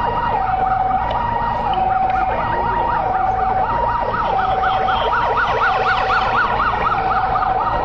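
An ambulance siren wails in a continuous repeating up-and-down pattern during an emergency crash drill at Sylhet Osmani Airport, loud and close, with a second siren layered over it and no talking.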